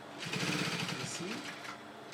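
Sewing machine stitching an overlap placket, a brief close run of rapid mechanical stitching with a buzzing motor, about two seconds long.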